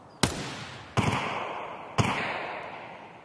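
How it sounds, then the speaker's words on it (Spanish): Three sharp gunshots in the online shooter Escape from Tarkov, evenly spaced about a second apart, each with a long reverberant tail, fairly distant and with no talking. "Está disparando con alguien de acá."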